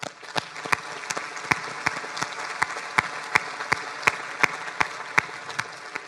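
Students and guests at an entrepreneurship awards ceremony applaud steadily, a moderately dense clapping with a few loud, distinct claps close by standing out at a fairly even rhythm.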